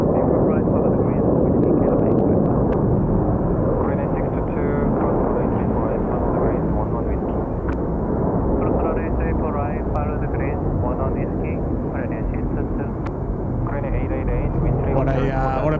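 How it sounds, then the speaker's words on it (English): A Korean Air airliner arriving from Manila at Incheon airport roars with a broad, sustained jet rumble that stays loud throughout, while a person talks over it. "there's our Korean Air service from Manila"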